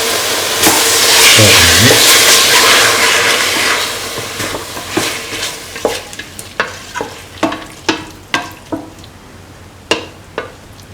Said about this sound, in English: mix thoroughly.